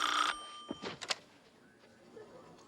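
A telephone bell rings in a comedy TV show bank scene, one brief loud ring at the start, followed by a few thuds and clunks of the handset being handled, then quiet room tone.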